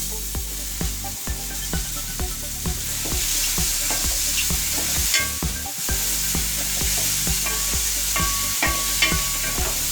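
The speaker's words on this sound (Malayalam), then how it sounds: "അതിലേക്ക് 1 കപ്പ് വെജിറ്റബിൾ മിക്സ് റെഡിയാക്കി വെച്ചിരിക്കുന്നത് ചേർത്ത് ഇളക്കുക." Stirring a cup of vegetable mix in a sizzling frying pan for a Kerala chicken sausage pulao, with steady frying hiss and repeated scraping strokes of the spoon, close and continuous with no talk.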